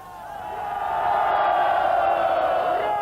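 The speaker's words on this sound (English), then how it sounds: "The principles of Lenin and Stalin applauded." A large crowd at a political rally roars and chants together, swelling in volume and holding loud, with a few sharp claps near the middle.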